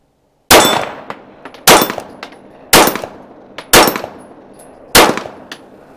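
Five loud gunshots ring out at steady intervals on an outdoor steel target range, each sharp crack followed by a metallic clang from the hit plate, with no talking.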